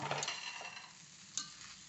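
Green nasi goreng with petai being stirred and fried in a pan, giving a soft, steady sizzle with light scraping of the spatula and a couple of sharper clinks, close by with no talking.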